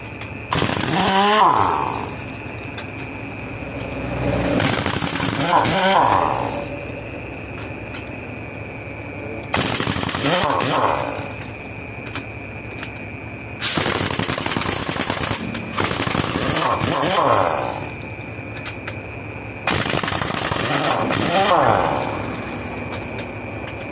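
Impact wrench removing wheel nuts from a tire in a workshop, several loud repeated rattling bursts of a few seconds each, separated by short pauses, with people talking over and between the bursts.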